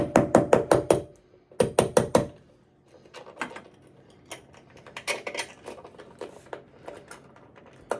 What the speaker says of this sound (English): We're just going to give them a little love tap through the wall.